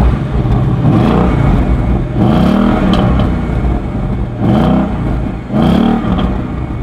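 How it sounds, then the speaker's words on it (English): Ford Mustang convertible V8 engine in sport mode, revved loudly several times, each blip rising into a throaty roar before falling back to a steady idle, close and with no talk over it. "whack this into sport mode and give you a few revs so you can hear the V8"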